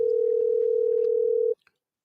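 A steady, loud telephone dial tone after the caller hangs up, one unbroken pure tone that stops abruptly after about a second and a half, then near silence.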